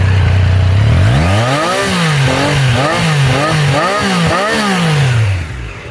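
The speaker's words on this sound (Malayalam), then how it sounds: "ഇനി കേട്ടോട്ടോ അത് എക്സോസ്റ്റ് നോട്ട്" A Triumph Daytona 660 motorcycle exhaust note, loud and close, climbing through several sharp revs that rise and fall in quick succession over a steady idle.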